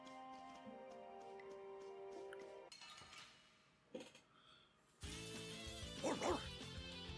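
Repede, a dog in the video game Tales of Vesperia, lets out a few brief barks over in-game music, with light clinking around them.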